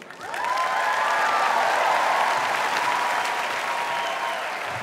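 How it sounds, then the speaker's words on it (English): Audience applause in a theatre during a magic act on a televised talent show stage, a broad even roar of clapping that swells quickly and holds loud before easing slightly at the end. "you get a big round of applause"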